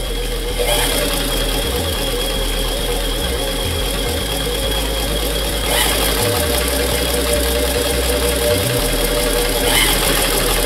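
A Singer 128 sewing machine runs on its foot pedal with a loud, steady mechanical whir, its low thumping rhythm shifting unevenly as the pedal speeds up and slows.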